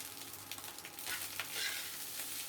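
Leftover cooked rice frying in a pan with soy sauce and tomato sauce while being stirred; a dense, steady sizzle swells midway as the spatula turns the rice, close and fairly quiet.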